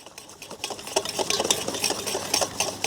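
Red velvet cake batter is whisked briskly in a bowl, producing rapid irregular clinks and wet scraping strokes that build in intensity, close and alone with no talk.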